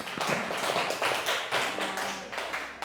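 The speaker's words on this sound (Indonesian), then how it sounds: "Tepuk tangan buat kalian semua." Schoolchildren clap their hands together in a classroom after finishing a test, a lively run of overlapping claps that keeps going for about three seconds at a fairly steady loudness, with no talking over it.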